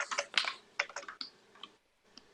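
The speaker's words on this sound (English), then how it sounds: "Loud keyboard" Loud computer keyboard typing, a mechanical-sounding burst of uneven clacking keystrokes, close and alone, fading into a short pause before one last click.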